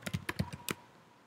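Typing on a computer keyboard, about eight quick close clicking keystrokes in a short uneven burst, then quiet.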